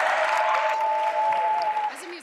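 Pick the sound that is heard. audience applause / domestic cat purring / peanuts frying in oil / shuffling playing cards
audience applause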